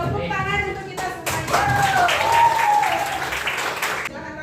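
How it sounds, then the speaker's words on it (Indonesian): A class of students claps together in a school lesson, a brief spread of mixed hand claps rising and continuing as a loose patter, with voices calling out over it. "Tepuk tangan untuk kita semua."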